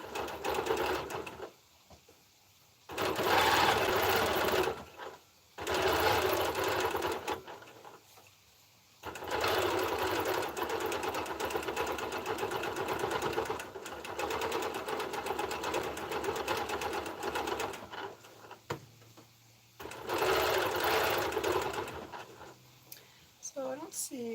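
A sewing machine runs through long quilting passes on a rainy day, coming in several loud close bursts with brief pauses between, one stretch running steadily for about ten seconds, with a voice talking in places.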